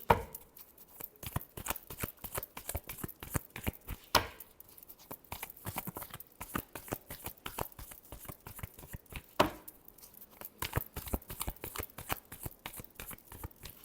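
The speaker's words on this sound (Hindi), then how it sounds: "Last shuffle." A deck of cards is shuffled for a Libra love reading, making a steady, close fluttering patter of card riffles that runs for the whole stretch, with a few sharper slaps and no talk.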